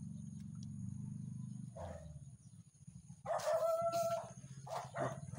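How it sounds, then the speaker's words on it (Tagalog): Dogs bark in a few sharp bursts at a moderate distance over a low steady hum, with a rooster-like call mixed in. "Sitahol lang yung mga aso."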